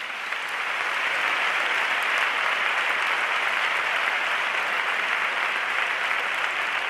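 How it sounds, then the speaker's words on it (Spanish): Loud, dense audience applause at the ceremony presenting the Medal of the City of Seville to Siempre Así, a thick steady roar of many hands clapping throughout. "Pues fortísimo aplauso para ellos."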